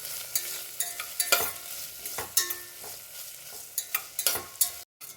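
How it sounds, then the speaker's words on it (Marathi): Potato and onion sauté in a pan, a low sizzle broken by repeated sharp spatula scrapes and clicks in an irregular stirring rhythm, close and clear, with a brief cut just before the end. "बटाटा थोडा वेळ परतून घेऊया।"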